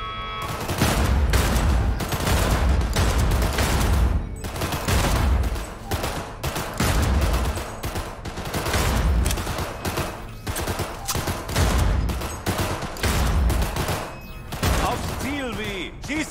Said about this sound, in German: Schieß aufs Ziel, nicht die Wand.